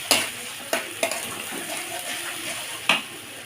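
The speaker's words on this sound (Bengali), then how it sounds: "দেখো আমার মশলাটা সুন্দর কষানো হয়ে আসছে" A ground paste of ginger, cumin, garlic, turmeric, salt and dried chilli is stir-fried in a pan. A close, steady sizzle is broken by several sharp spatula knocks.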